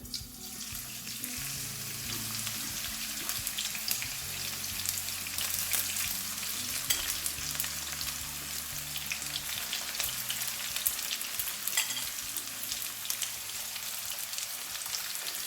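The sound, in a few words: onions frying in hot oil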